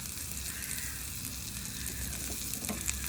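Dried red chillies, onion and curry leaves sizzle and crackle steadily in hot oil for a tempering, a continuous close frying hiss with small pops throughout and no talking.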